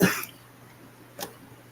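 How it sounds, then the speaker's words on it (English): Two quiet coughs, one at the start and a softer one a second later, faint and slightly distant over low room hum. "Sorry for the coughing, you guys."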